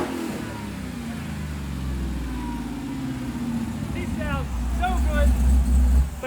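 A truck fitted with an engine swapped from a Dodge Demon revs and rumbles loudly nearby, its deep engine note building toward the end, while people talk over it.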